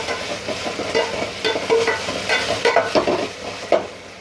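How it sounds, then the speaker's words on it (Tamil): Onion frying with ginger garlic in a pan for a prawn masala, loud close sizzling broken by repeated scraping strokes of a spatula, uneven and busy, no talking. "இஞ்சி பூண்டு போட்டு நல்லா வதக்கிக்குங்க."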